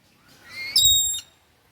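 A single shrill, whistling squawk from a rainbow lorikeet rises and holds for about half a second, close and loud, then cuts off, leaving quiet.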